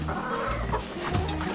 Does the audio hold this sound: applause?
no